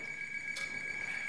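A stage telephone rings as a sound effect during an amateur theatre performance. A steady electronic tone carries at a moderate level, with one short burst of noise about halfway through and no voices.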